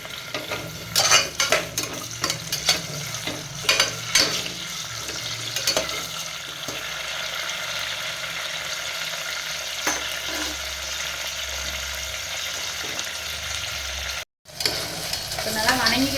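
Tomato, onion and curry leaves sautéing in hot oil for a mutton curry, with a continuous close sizzle broken by scraping stirs and clinks of the spoon against the pan.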